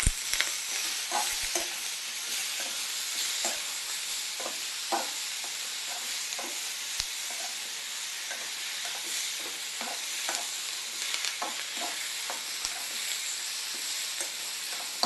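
An okra gojju base with coriander leaves and a little ginger fries in a pan with a steady, dense sizzle, broken by occasional soft clicks of stirring, close and continuous throughout, with no talking.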